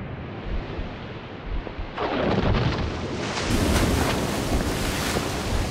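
Strong wind gusting in the horror video game Call of Cthulhu: Dark Corners of the Earth, a steady roaring rush that swells louder and brighter partway through and keeps blowing with no voices.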